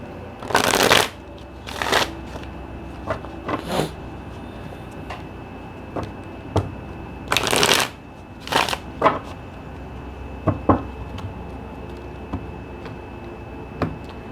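A Sawyer's Path tarot deck shuffled by hand in a quiet room, with several short bursts of card riffling and sliding spaced apart, close and crisp, separated by soft pauses.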